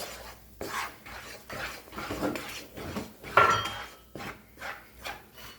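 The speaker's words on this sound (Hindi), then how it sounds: "हुरिया का शोर आपको आ रहा है, वो बर्तनों से खेल रही है पीछे बैठ के।" In a home kitchen, a young girl sits in the background playing with metal pots and utensils. She makes faint, repeated scraping, rubbing and clinking noises in short bursts, with one brief sharper clang.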